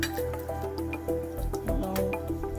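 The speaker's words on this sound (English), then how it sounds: "Now I have added in 1 glass of water." A glass of water poured into a cooking vessel of spiced goat brain fry with ginger garlic paste and tomato, close wet splashing and bubbling sizzle in short bursts, without speech.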